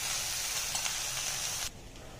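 Rasam simmering on the stove as onions, black-eyed beans, toor dal and drumstick (moringa) leaves are stirred together: a steady sizzle and hiss that drops off sharply near the end.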